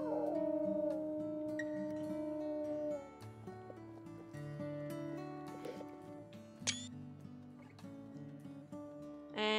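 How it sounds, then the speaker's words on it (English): A wolf in the video game WolfQuest howls at dawn, long sustained howls with layered pitches from more than one animal, loud and continuous across the whole stretch, with no talking. "Let's just doing a little dusk howl."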